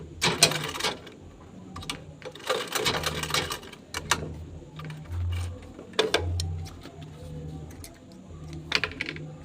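A sewing machine back-stitches while a bag is sewn, running in short close bursts of rapid needle chatter separated by brief pauses, with soft handling noises between runs.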